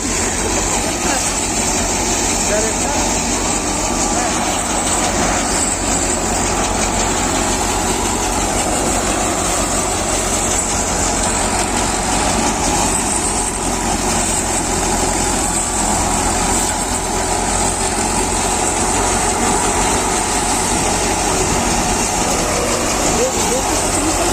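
A steady tractor engine drone runs continuously throughout, loud and close, with no breaks in the rumble, during rice threshing.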